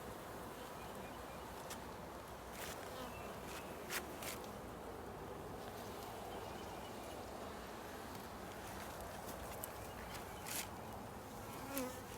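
Honey bees buzzing steadily around an opened hive during an early-spring inspection after winter, a dense continuous drone with individual bees zipping close past now and then.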